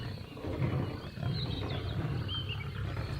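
Low, breathy lion roaring pulses beneath a thick backdrop of Congo forest insects and birds, steady and fairly loud throughout.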